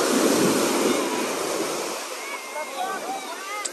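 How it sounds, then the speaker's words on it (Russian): Waves wash onto a sandy beach in Israel, close and loud at first, then the surge recedes into a softer hiss and trickle of retreating water. "Волны. Обожаю."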